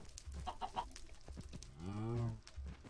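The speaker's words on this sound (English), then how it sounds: "Did this chicken lay an egg?" A Minecraft chicken clucks in short bursts, followed by a louder, longer harmonic squawk-like call in the hardcore survival game, up close with faint footsteps and no talking.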